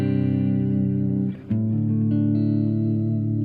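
An electric guitar played through an amp set very dark with the pitch shift turned off, sustained chords ringing with warm, bass-heavy tone, a short break in the middle, then a new chord held, with no voices.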